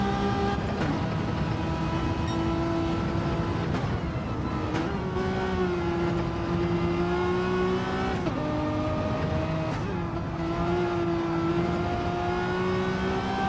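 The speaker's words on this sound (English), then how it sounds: "Just listen to that car. Beautiful sounds coming from this Renault." A Renault race car engine howls continuously at high revs on a track, pitch rising and dipping through gear changes, close and loud throughout.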